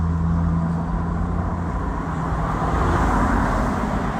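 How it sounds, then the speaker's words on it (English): Steady road traffic near a town in Pennsylvania: cars and heavier vehicles pass continuously with a broad, rumbling roar and a low hum underneath, loud and close throughout, with no talking. "sorry for the road noise."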